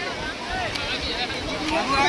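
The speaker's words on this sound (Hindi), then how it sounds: "तो भाई झरना का आगमन हो चुका है नहाने का यहाँ पर।" Water rushes steadily from the Sundariya waterfall near Mirzapur, a broad, constant roar close by, with people's voices faintly mixed in.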